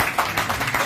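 A group of people clapping together at a parents' gathering in Lagos, a short burst of dense, overlapping claps, steady and fairly close.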